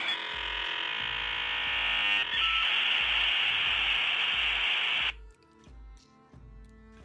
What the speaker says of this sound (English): That's the sound of the internet.